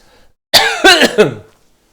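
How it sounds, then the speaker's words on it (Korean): Three quick, harsh coughs in a row from a man with a lingering cold, close and fairly loud, then quiet. "아직 기침이 좀 남아 있네요"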